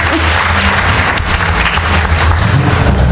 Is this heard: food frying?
no